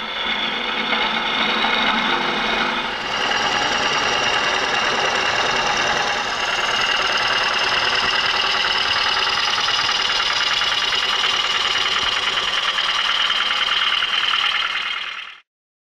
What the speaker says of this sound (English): Bevel rubbing cut.